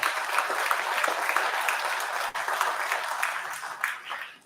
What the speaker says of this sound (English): So give her a round of applause as she comes in.